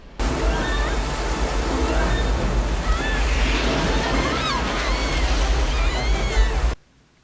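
A constant loud roar of rushing river rapids fills a movie scene, broadband and close, running without a break before cutting off abruptly near the end.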